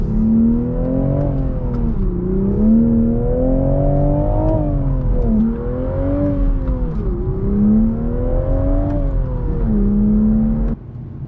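A manual 2023 Toyota Supra with a six-cylinder engine accelerating and shifting through gears, a loud rising engine drone repeatedly climbing then dropping with each shift, heard from inside the car without talk.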